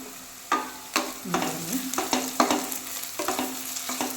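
Onion, ginger and garlic sizzle in hot ghee for biryani, with steady frying crackle and repeated stirring scrapes and clanks of a spoon against the pan, close and alone.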